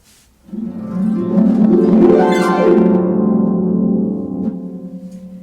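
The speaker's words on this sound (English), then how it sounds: "also do something called a glissando" A harp sweeps rapidly up and back down its strings in a ringing glissando, notes blurring together and sustaining before slowly fading.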